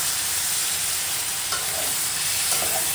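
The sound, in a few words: stirring and sautéing cabbage and fish head curry with water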